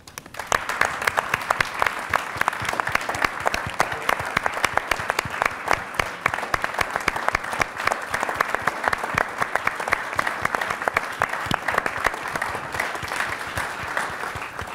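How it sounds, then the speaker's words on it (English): Audience applause at a White House celebration of the Pledge to America's Workers: dense, steady clapping from a large crowd that fills the whole stretch without pause, with no talking over it. "we'd love to give you a round of applause."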